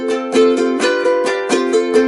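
Ukulele playing the solo from a song, a bright strummed two-bar pattern repeated, with sharp chord strokes at a steady quick rhythm, close and clear with no voice.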